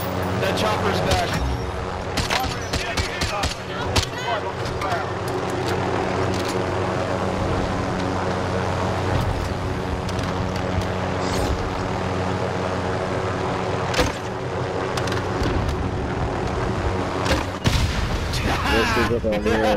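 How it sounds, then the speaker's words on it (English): A helicopter in Call of Duty: Warzone drones overhead with a continuous rotor and engine hum, joined by bursts of gunfire and players talking throughout. "That chopper's back!"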